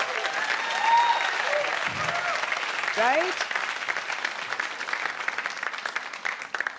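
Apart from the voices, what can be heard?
audience applause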